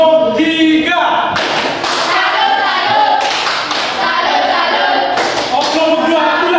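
Students in a classroom do the 'tepuk salut' clapping cheer for group 3: steady, loud patterned hand claps under continuous chanting voices.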